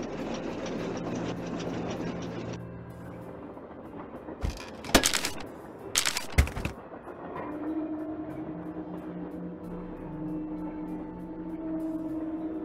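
A train rumbles and clatters along in the video game Nancy Drew: Last Train to Blue Moon Canyon, interrupted by a couple of sharp bursts of hissing or clanking before a lower steady hum takes over.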